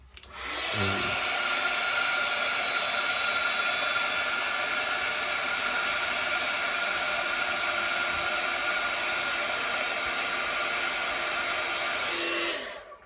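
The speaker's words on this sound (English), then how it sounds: "Grab my heat tool again." A heat tool heat-sets a stamped sentiment on a Stampin' Up! autumn leaf card, giving a loud, steady whirring blast of hot air that runs unbroken for about twelve seconds before cutting off.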